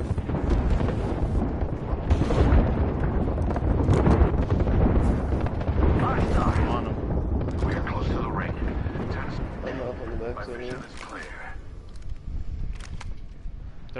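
Airstrike explosions rumble and boom through a continuous roar in the Apex Legends video game, loud and sustained for many seconds, with players talking over the blasts.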